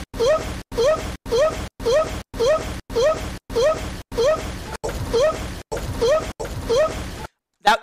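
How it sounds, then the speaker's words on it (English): A chair scrapes across the floor in a rapid series of about a dozen short, rising, groan-like squeaks, loud and close, then cuts off abruptly. "That was the sound of the chair squeaking across the ground."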